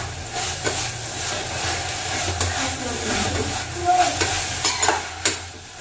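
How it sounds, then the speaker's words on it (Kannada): Onions fry in a little oil with a continuous close sizzle, punctuated by repeated scraping and clinking as they are stirred in the pan, with faint talking in the background. "ಸುಮ್ಮನೆ ಸ್ವಲ್ಪ ಎಣ್ಣೆ ಹಾಕಿ ಫ್ರೈ ಮಾಡ್ತಾ ಇದ್ದೀನಿ ಅಷ್ಟೇ"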